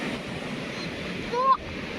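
Sea waves wash onto a beach at night in a steady, broad surf roar, with a brief higher honk-like call rising near the end.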